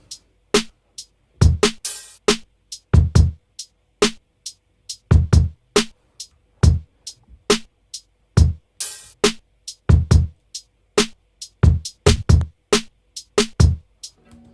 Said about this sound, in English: And so all the drums together sound like this.